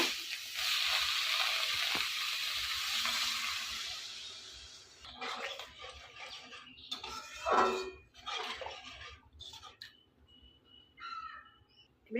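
Water poured into a curry in a hot pan sets off a loud hissing sizzle that gradually dies away, followed by scattered clatter and scraping at the pan.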